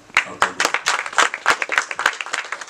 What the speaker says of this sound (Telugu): అందుకే ఇప్పుడు ఈ చప్పట్లు కొడితే వినపడుతుంది